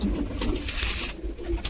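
Pigeons at a pigeon fancier's loft make soft, low cooing murmurs that run steadily through a short stretch with no talking.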